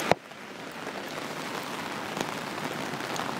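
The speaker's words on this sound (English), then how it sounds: "It's raining." Steady rain patters on a surface, a soft continuous hiss with scattered drops, fairly quiet and without voices.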